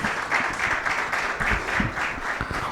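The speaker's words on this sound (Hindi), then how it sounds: "तो एक बार जोरदार ताली हो जाए हमारे पूरे" An audience at a youth festival claps steadily and loudly for a kirtan team, a dense, continuous wash of applause with no voices over it.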